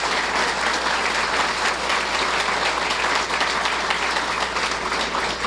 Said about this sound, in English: And I would like some applause.